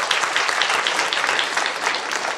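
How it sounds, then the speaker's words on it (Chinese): Congregation applauding during a Father's Day joint church worship service, a steady dense wash of clapping from many hands, fairly loud and continuous throughout. "我们掌声"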